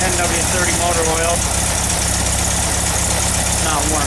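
A cold 1776cc engine running on 10W30 oil and fitted with bazooka exhaust tips idles with a steady, loud, close-up drone. Someone talks over the engine at times.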